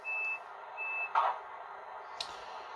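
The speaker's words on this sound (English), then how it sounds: "Door sound." A Piko H0 scale ICE3 model train plays its electronic door sound: two short warning beeps, then a brief click-like burst and a faint later tick, quiet over a low hum.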